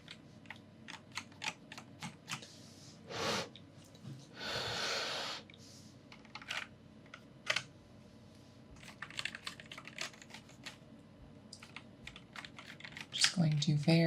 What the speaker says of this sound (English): clean between the keys on this here keyboard